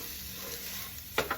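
Chicken, rice and garlic fry together in a pan with a constant soft sizzle, then two quick scraping stir strokes close by at the end.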